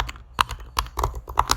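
Keys clatter on a computer keyboard while Python code is written, a quick irregular run of close, sharp clicks with uneven gaps and no voices.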